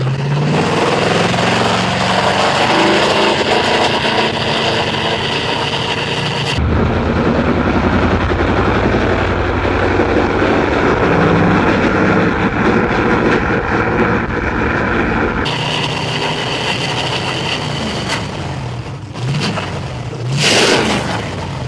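A flathead engine with a 4-barrel carburetor idles smoothly and steadily, a loud continuous rumble heard close up with a shift in tone partway through and some handling noise toward the end.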